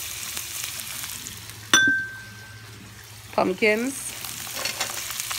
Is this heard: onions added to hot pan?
yes